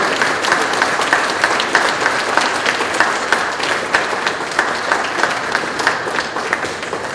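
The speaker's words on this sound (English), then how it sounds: "let's have a big round of applause for Preston Singletary" Audience applause for glass artist Preston Singletary at a museum exhibit event, a loud, sustained round of clapping from a sizable crowd, even and continuous with no talk.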